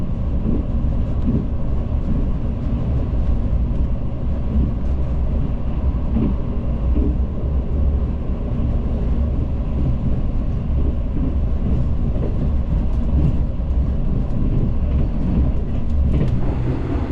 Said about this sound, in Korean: 열차는 잠시 후 빠른 속도로 양목역을 통과합니다